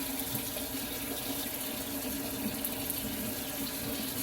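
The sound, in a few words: washing a potato under running tap water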